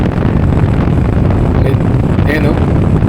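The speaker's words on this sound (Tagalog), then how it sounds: "Medyo mahangin." Strong, steady wind roars and buffets the microphone throughout, a dense rumbling rush with no pauses.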